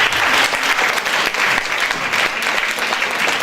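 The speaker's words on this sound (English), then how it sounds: "That deserves a huge round of applause." Guests at a wedding celebration break into loud, close applause, brisk clapping that rises and dips slightly in waves without letting up.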